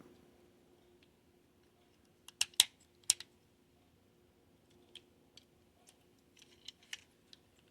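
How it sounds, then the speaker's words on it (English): Plastic parts of a Transformers Studio Series 86 Devastator Hook and Long Haul Commander Class figure clicking into place, a few sharp close snaps in a quick cluster, then sparse lighter clicks in near silence. "You got to pull it forward a little bit till it clicks."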